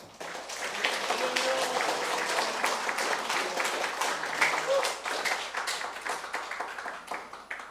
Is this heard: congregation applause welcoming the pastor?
yes